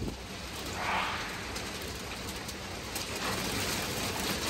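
Rain falls on a polytunnel in a garden, a steady, soft, dense patter across the plastic covering, fairly quiet and constant, with no talking.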